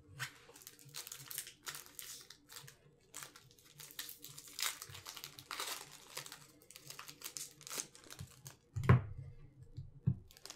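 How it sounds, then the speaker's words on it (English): A Magic: The Gathering Oath of the Gatewatch booster pack wrapper crinkles and tears quietly and close by in irregular bursts of small crackles, with a brief louder rustle near the end. "we're going to open this pack here"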